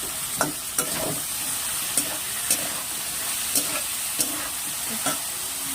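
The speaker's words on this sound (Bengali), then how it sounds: "হালকা করে ভেজে নেব" Taro stolons (kochur loti) frying with turmeric in a pan give a steady close hiss and sizzle, broken by soft clacks and scrapes of stirring every half second or so.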